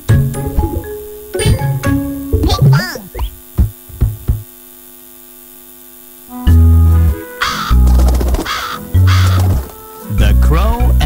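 Crow caws, several harsh calls in short bursts spaced through the clip, with a steady mains hum underneath and pauses of near silence between groups of calls.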